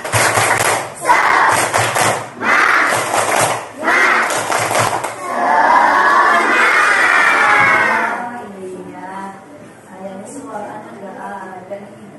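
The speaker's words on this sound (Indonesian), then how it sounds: "tepuk semangat" Children in a classroom do a rhythmic spirit clap, with bursts of clapping and chanting in a beat-by-beat pattern, then a long cheering shout that fades into quieter voices.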